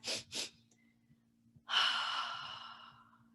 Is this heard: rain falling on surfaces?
no